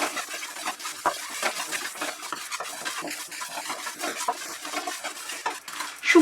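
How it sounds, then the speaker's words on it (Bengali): A spoon scrapes and clinks steadily against a pan as spices for a Bengali jujube pickle are stirred and dry-fried over very low heat, a close, continuous rattling texture with no voice. "আঁচটা একদম কমিয়ে আমরা এরকম সবসময় নাড়তে নাড়তে এটাকে ফ্রাই করে নেব।"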